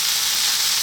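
Chilli halves dropped into a hot wok of chicken and broccoli stir fry, giving a steady, loud hissing sizzle throughout a brief moment, with no talk.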